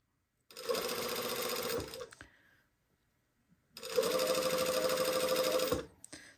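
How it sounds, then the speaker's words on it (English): A sewing machine stitches bias tape along its ironed crease in two steady runs of about a second and a half each, with a short pause between them. The motor hum is close and even, and no one speaks. "I'm just sewing right in that crease that was made when I ironed my bias tape."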